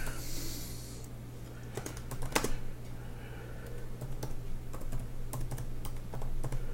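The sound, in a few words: typing text on a computer keyboard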